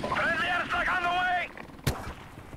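A single sharp, loud blast of airstrike gunfire and explosion in Call of Duty: Modern Warfare Remastered cracks out briefly after someone speaks, followed by lower rumbling game noise.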